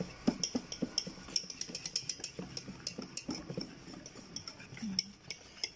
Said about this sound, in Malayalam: സാധാ വെള്ളത്തിൽ നമുക്ക് ഒരു പരുവം വെച്ച് കുഴച്ച് വയ്ക്കാം